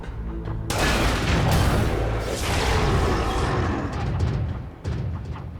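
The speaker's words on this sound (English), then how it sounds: "Give me the power bomb" A power bomb detonates in Metroid Prime Remastered with a loud, sudden boom. A deep, rushing roar follows and rumbles on for several seconds before fading.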